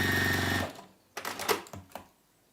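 Sewing machine top stitching down the side of a fabric tote bag, a fast steady motor whir close up for about half a second, then stops, followed by a few handling clicks and rustles.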